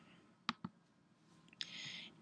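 A computer mouse clicks twice in quick succession, close and faint against a quiet room, followed by a soft brief rustle.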